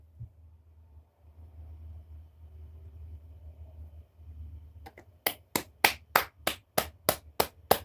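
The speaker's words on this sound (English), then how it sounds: "I'm just gonna clap again since that was the going thing" About ten sharp hand claps in a steady rhythm, close and loud, follow a stretch of low rumbling room noise.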